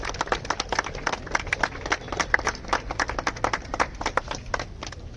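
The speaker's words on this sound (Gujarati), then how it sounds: "આપણે સૌ એને ખૂબ તાળીઓ બજાવીએ" An audience claps for a student at a school and college traditional food fair in Nadiad, producing a fairly close, lively patter of overlapping hand claps for a few seconds.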